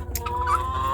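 Backyard chickens and guinea fowl after a snowstorm, a short close burst of clucking and fowl calls with a sustained tonal cry over a low steady background.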